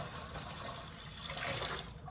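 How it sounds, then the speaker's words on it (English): Water poured into a canning pot holding jars, a steady close rushing splash that swells slightly toward the end, continuous and alone. "I am now going to add water."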